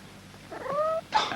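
A single cat gives a short, close meow with a rising-falling tonal wail, followed by a brief second sharper cry, alone with no talk.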